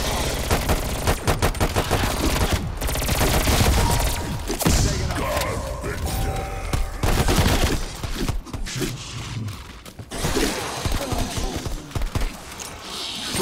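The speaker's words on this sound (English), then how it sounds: "I'm claiming this assault rifle." Rapid assault rifle fire in a Call of Duty: Black Ops Cold War zombies match on Firebase Z, with loud bursts and dense automatic volleys running almost the whole time, mixed with heavy thuds and game effects.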